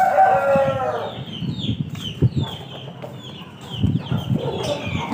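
An Aseel hen gives a loud drawn-out squawk, then keeps up scattered nearby clucks with some rustling.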